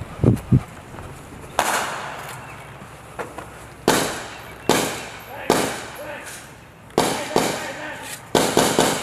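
Live-fire rifle shots ring out during Marine combat training in an urban MOUT course, a series of sharp, loud cracks with echoing tails, spaced irregularly, while voices call out between them.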